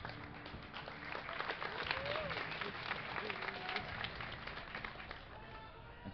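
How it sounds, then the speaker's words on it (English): A live crowd at a StarCraft II esports tournament claps and cheers steadily, a dense, continuous wash of applause throughout, with some voices mixed in. "give a cheer for OGSTop. And make some noise for the comeback French champion, MAdelScott."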